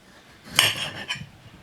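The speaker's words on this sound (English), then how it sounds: "Let's begin by slicing the potatoes." One quick knife cut through a potato for wedges, a single sharp clack against the board followed by a lighter tap, close and brief with no talk.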